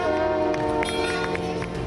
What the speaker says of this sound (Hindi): सीएम योगी ने घंटी बजाकर लखनऊ नगर निगम के बॉन्ड को बीएसई में लिस्ट कर दिया